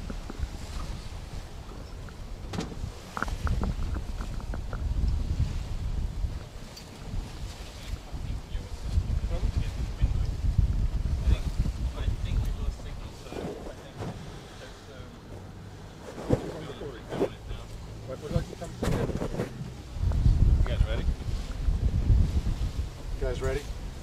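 An NSO evo2 motorboat roars along at full throttle under heavy, buffeting wind noise, the engine drone rising and falling, with voices talking intermittently over it.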